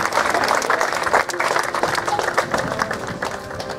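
A crowd claps steadily for both sets of parents at a wedding ceremony in Budapest, a short, full burst of applause that holds its level throughout.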